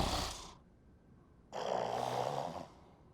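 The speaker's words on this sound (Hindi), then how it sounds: "ये तो खर्राटे लेने लगी" A woman snoring indoors at night, one broad raspy breath, then a louder, longer snore after a brief pause, heard alone and close by.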